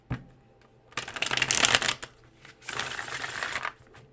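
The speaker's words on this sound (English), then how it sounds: "Let me get another shuffle in." Tarot cards are shuffled close up in two long riffling bursts separated by a short pause, with a faint low hum underneath.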